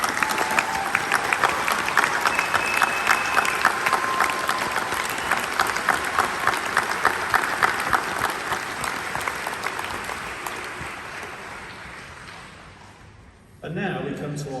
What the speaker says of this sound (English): I think you all deserve another round of applause.